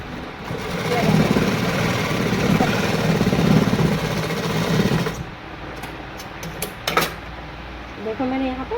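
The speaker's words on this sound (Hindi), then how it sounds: "देखो मैंने यहाँ पर इस तरह से सिलाई लगा ली है।" Sewing machine running steadily while stitching a patiala salwar, a continuous close whirring for about five seconds that then stops, followed by quieter handling sounds and a brief rattle; a voice can be heard over the machine.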